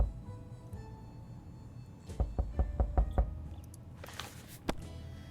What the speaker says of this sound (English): Okay, another knock at the door.